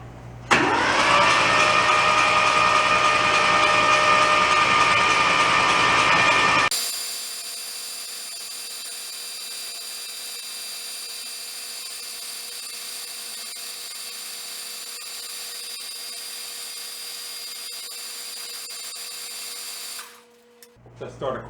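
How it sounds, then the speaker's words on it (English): A starter motor spins an abandoned Kubota tractor engine with its decompression valve open, a loud steady whirring crank for about seven seconds that then stops, leaving a faint constant hum before a few closing knocks. "That's like spinning an engine without spark plugs in it."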